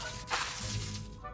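The Depulso pushing spell is cast in the video game Hogwarts Legacy, a short sharp whooshing thwack that lasts about a second and ends in a quick burst.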